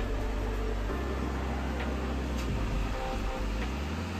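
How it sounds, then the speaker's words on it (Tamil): A steady, close hiss of water at a rolling boil in a steamer pot, with faint bubbling and soft pops under the constant rushing noise. "நல்லா கொதி வர ஆரம்பிச்சுட்டு"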